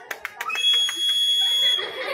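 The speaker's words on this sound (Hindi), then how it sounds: "इसके आवाज में ये सीटी है जो बहुत ज्यादा कंपन कर रहा है, इसलिए इसकी ध्वनि तेज है" A whistle blown in a classroom demonstration gives a loud, sustained shrill tone lasting nearly two seconds, preceded by a few short sharp bursts, close to the listener.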